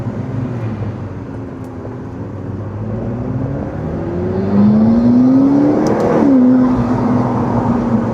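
A 2012 McLaren MP4-12C 3.8 Spider with SSG gearbox revs its engine and exhaust, a steady droning note climbing in pitch and loudness, then dropping sharply and settling at a higher hum.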